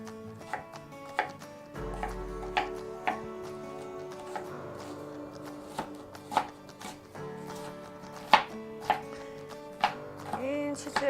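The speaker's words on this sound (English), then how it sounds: "Curl your fingers. And just chop away." Knife chopping onions on a cutting board for onion jam, sharp irregular taps that speed into quick bursts, close and crisp, with a brief low hum and faint talk in places.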